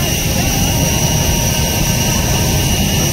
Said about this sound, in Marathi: हा विमान आहे आमचा, पाहू शकता तुम्ही हा विमान, हा विमान आहे इंडिगो।